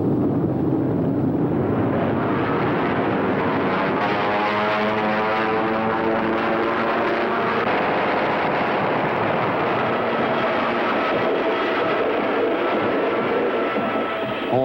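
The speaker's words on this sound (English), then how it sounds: "The Americans immediately sent their fighters into action." Fighter aircraft in flight during a Pacific wartime battle, a loud, continuous engine drone with a wavering tonal whine in the middle that holds steady for about fifteen seconds, heard alone without talk.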